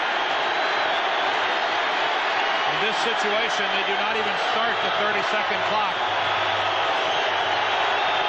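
A stadium crowd at a 1985 Atlanta Falcons vs Seattle Seahawks football game roars in a steady, loud wash throughout, while a commentator talks over it.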